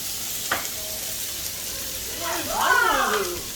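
Noodles tucked into a hot, sizzling pan, with a steady background fry and then a louder burst of crackling hiss as they hit the oil, close up.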